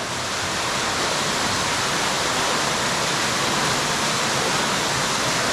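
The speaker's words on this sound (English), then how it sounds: "Look at this mini waterfall." A small waterfall inside a borehole cave pours steadily, filling the space with a loud, continuous broadband rush of falling water and no voices.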